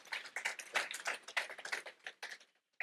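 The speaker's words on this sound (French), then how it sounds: "On peut les applaudir pour tout ce beau travail" An audience at a digital advertising business event claps for the presenters, a fairly faint round of scattered, rapid hand claps that thins out and stops near the end.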